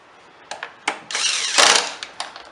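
A power driver runs screws into the housing of a STIHL BR430 blower: several short whirring bursts, then a longer, louder spin, followed by a few quick bumps.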